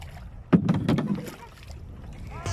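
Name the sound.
kayak paddling on water at Rafisah Dam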